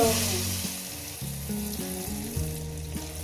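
Hot oil sizzles in a heated wok with a soft, continuous hiss, heard beneath prominent melodic background music.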